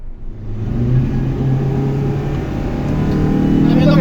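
An Acura RSX Type S with VTEC revving under hard acceleration from inside the cabin, a loud steady engine drone climbing in pitch over a few seconds.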